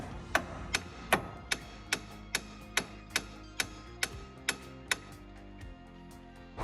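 A hammer strikes the sides of the castle nut on the lower ball joint of a 1996 Chevrolet Cavalier, giving a steady series of about a dozen sharp, ringing metallic blows, evenly spaced and close by, with no talk.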